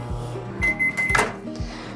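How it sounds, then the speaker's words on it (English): Microwave oven running with flower preserving boards inside, a steady hum with a few soft clicks and knocks, heard close and alone. "And then we're gonna microwave it for 15 seconds."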